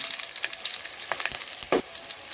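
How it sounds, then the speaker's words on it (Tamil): Onions, curry leaves and garlic sizzling in hot oil for a Tamil fish curry, a steady close frying hiss with occasional stirring scrapes and pops, no voices. "வெங்காயம் எந்த அளவுக்கு வதங்கினா போதும், ரொம்பவும் ப்ரௌன் ஆகக்கூடாது."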